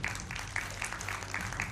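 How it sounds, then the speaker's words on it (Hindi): A studio audience applauds steadily to welcome a guest on a Hindi political debate show, a dense continuous clapping that stays loud and even throughout the short stretch. "तालियों के साथ उनका भी स्वागत कीजिए"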